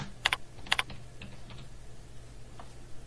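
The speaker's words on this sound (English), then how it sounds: "let's try typing in shoe size" Keystrokes on a computer keyboard while entering data into SPSS, a few quick clustered taps near the start followed by sparse single clicks over a quiet room hum.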